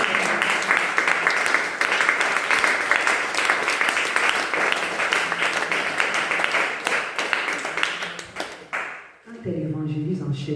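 A church audience applauds loudly and steadily for several seconds, the clapping dying away before a voice begins speaking.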